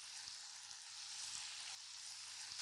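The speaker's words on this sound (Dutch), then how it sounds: "We bakken de kokies 1 minuut langs elke zijde." Scallops fry in a pan with a steady, soft hiss and faint crackle, broad and even throughout with no talking.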